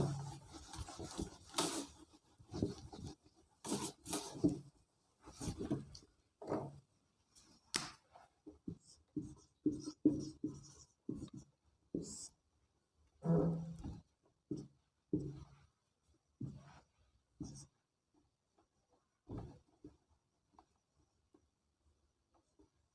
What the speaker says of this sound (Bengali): একটা ওয়ার্ড আমি লিখলাম অনেস্ট, HONEST